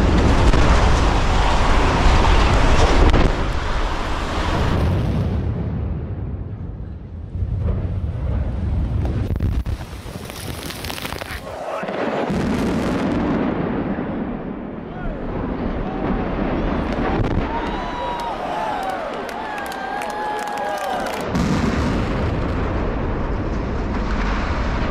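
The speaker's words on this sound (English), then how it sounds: "On May 2, 2023, the A45 Viaduct Ravaged near Lundershyde was blown up as" Controlled demolition blast bringing down the A45 viaduct near Lüdenscheid, heard as a loud boom and rumble in the opening seconds, followed by wind buffeting the microphone and distant crowd noise.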